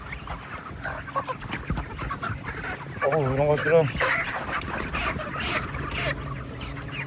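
Broiler chickens, about 33 days old and over 2 kg, cluck and murmur throughout a crowded chicken house with deep litter; someone talks over the steady, low flock noise.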